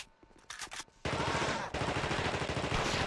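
Gunfire from a sniper-focused speedrun video game: sharp shots ring out in the first second, then a loud, dense burst of rapid firing continues to the end.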